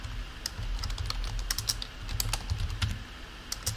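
Commands being typed on a computer keyboard during a software install on Ubuntu, a steady run of close, crisp key clicks with a few louder strikes and no voices.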